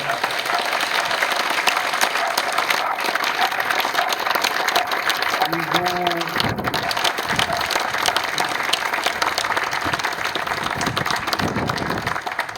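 A large crowd at a citizens' rally against riots in Maubeuge, France, applauds the police continuously, dense clapping filling the space, with a brief voice breaking through partway.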